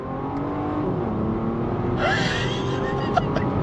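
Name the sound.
Bentley Bentayga Speed SUV accelerating at full throttle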